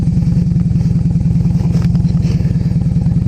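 Motorcycle with its fairing removed, ridden along with a steady, loud engine drone and rapid low pulsing exhaust beat, plus wind rush, close and continuous throughout.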